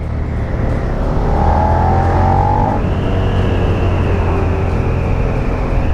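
A 2016 Suzuki SV650 V-twin motorcycle engine runs steadily while being ridden, a loud close droning growl with a rising whine partway through, and no voices.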